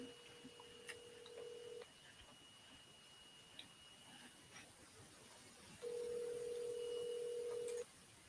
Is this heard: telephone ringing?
yes